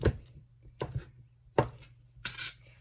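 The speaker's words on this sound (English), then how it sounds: "So just chop it up as thin as you can." Four sharp knife chops through chicken land on a cutting board at uneven intervals, close and crisp, with faint clinks between them.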